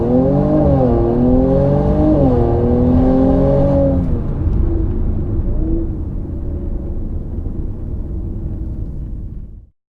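A 2019 Mercedes C43 AMG in sport mode accelerating hard from a standstill to 60 mph, its engine rising loud and close through gear changes, then easing into a fading rumble before cutting off.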